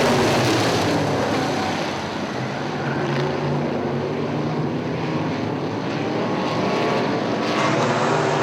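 Michigan modified race cars at Cherry Speedway roar as they throttle up on a double-file restart out of turn 4, a loud, dense, continuous engine blare that stays close and steady with no speech.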